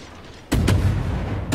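Warship naval guns firing in World of Warships, a sudden heavy double boom followed by a rumbling roll of low thunder, loud and close after a quiet start.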